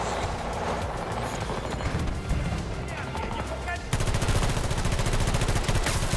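Rapid gunfire from a weapon in Battlefield 2042, dense crackling bursts with mixed battlefield noise, then a tighter stream of rhythmic automatic shots in the second half, loud and close.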